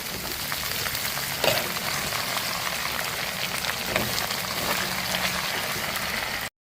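Shallots sizzling in hot oil in a pan as they are stirred, a steady close crackling hiss with a few soft scrapes, no voices.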